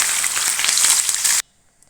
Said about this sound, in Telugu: ఇలాగా మనం ఆయిల్ పెట్టుకుని ఇదిగోండి, ఒక బంగాళదుంప, ఒక క్యారెట్, ఒక క్యాప్సికము ముక్కలు కట్ చేసుకుని ఫ్రై చేసుకుంటున్నాను